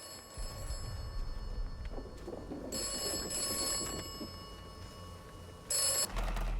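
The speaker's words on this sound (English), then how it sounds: "There's another phone booth, so of course of course it's ringing with the creepy voice on the other end" A telephone ringing inside a phone booth in the video game Atomfall, with steady bell-like rings over a low ambient background and a louder burst near the end.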